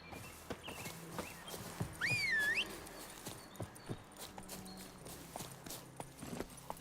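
Horse hooves clip-clopping at a walk in the video game Witcher 3, a steady rhythm of light thuds with a rising whistled tone partway through.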